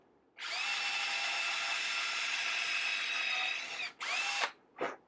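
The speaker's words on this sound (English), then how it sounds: "I'm going to drill a 1/4 inch hole to match a 1/4 inch dowel right center in the bottom" Power drill boring a quarter-inch hole into the bottom of a wooden pen blank, a steady high whine held for several seconds, then two short bursts as the bit is worked and withdrawn.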